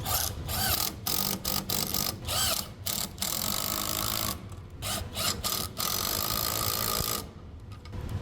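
A ratchet wrench fitted with a 14mm socket turns a bolt to mount an 18-inch VEVOR wall fan, giving repeated clicking bursts with short pauses between strokes, close up and moderately loud.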